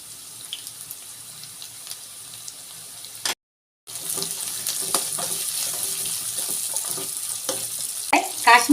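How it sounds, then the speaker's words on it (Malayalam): Ginger and pepper sautéing in a pan in a home kitchen, a steady hissing sizzle with scraping stirs and clinks that stops briefly midway, then resumes louder with sharper utensil taps near the end. "ഇനി നമുക്ക് നല്ലപോലെ ഒന്ന് വഴറ്റി കൊടുക്കാം"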